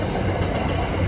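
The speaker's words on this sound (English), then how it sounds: "Oh, there's the train." A train rolls past nearby, a dense continuous low rumble and roar filling the whole moment at steady loudness.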